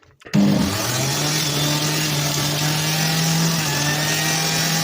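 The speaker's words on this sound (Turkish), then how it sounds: "şöyle katı meyve sıkacağım var. Bununla suyunu çekmeyi düşünüyorum" A red electric juicer whirs into life and holds a steady, loud motor drone while it juices sliced watermelon, with no break in the hum.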